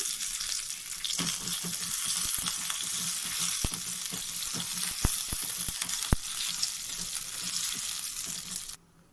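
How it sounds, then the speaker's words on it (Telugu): Mustard seeds, cumin, a dried red chilli and curry leaves spluttering in hot oil for a tempering, a lively close sizzle with scattered sharp pops and a few stirring taps, ending abruptly. "ఆవాలు జీలకర్ర చిటపట్లాడేటప్పుడు అండి ఇందులోనే ఒక ఎండుమిరపకాయ అండి, కొద్దిగా కరివేపాకు కూడా వేసుకొని బాగా మిక్స్ చేసుకుంటున్నానండి"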